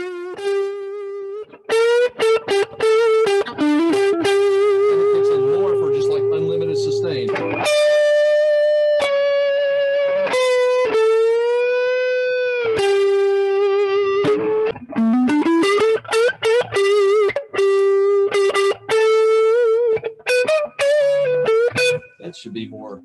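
A 2013 Paul Reed Smith electric guitar plays a melodic line, starting fairly clean and then turning thicker and more saturated as distortion kicks in, sustained notes ringing.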